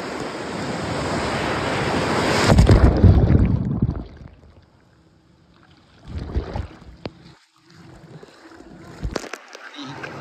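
Sea waves wash onto the beach at Ganpatipule, first a loud, rushing surge with wind buffeting the microphone, then quieter lapping water broken by a few smaller splashing bursts.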